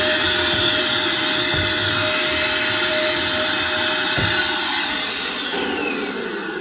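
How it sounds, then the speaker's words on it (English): A Eureka NES215A stick vacuum runs in handheld mode with a loud, steady whirring motor whine and a constant high tone, close up, holding the same pitch throughout with no talking. "Now we have sort of just a small handheld vacuum."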